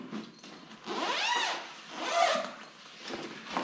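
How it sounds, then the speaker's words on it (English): A large zipper running around a padded snowboard bag is pulled open in two or three long rasping strokes, close and clear with no talk. "So let's open it up. There's a huge zipper pocket going all the way around."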